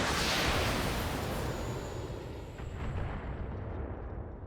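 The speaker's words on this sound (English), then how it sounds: "I can keep on bombarding this guy with long-range missiles." A continuous, heavy rumbling barrage of long-range missile impacts in the Battletech video game, dense and booming at first, then slowly fading.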